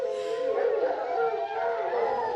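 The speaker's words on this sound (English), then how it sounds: "That's a hound." A pack of hounds howls in sustained, overlapping wails that hold steady and loud throughout, with no pauses between voices.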